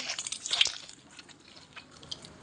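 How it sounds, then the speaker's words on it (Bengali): Lemon squeezed by hand over cooked crab at a seafood meal gives a short burst of wet drips and squishing near the start, then fades to faint, quiet dribbles. "একটু লেমন চিপে দেই, খুব মজা।"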